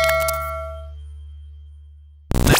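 A bright electronic notification bell rings once with a clear metallic ding that fades slowly into silence, followed by a brief burst of sound at the end.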